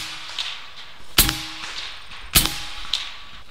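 A .457 caliber air sniper rifle fires two sharp, loud cracks about a second apart, each with a brief ringing tail against quiet outdoor background.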